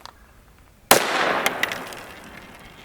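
Single sharp gunshot from a Kel-Tec CMR 30 carbine with a 16-inch threaded barrel firing .22 Magnum 40-grain FMJ, a loud crack followed by a decaying outdoor echo after a quiet lead-in.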